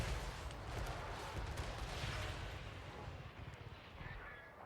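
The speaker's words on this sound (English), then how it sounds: "Lead belchers, fire at those pump wagons, please." Lead belchers fire at pump wagons in the video game Total War Warhammer 3, a faint, distant rumble of cannon and gunfire that rolls on in a continuous battle din and fades slightly toward the end.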